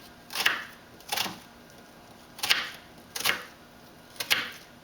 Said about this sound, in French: On va couper l'oignon vraiment très finement.